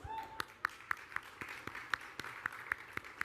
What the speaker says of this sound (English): You got a round of applause.